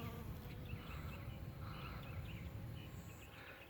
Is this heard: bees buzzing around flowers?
yes